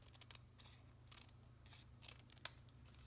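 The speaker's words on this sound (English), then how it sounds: "I'll use my scissors and cut this off the bottom" Scissors snip through material while trimming the bottom of a zebra-themed frame craft, giving a few soft, close cuts with a single sharper click near the end, quiet and without talk.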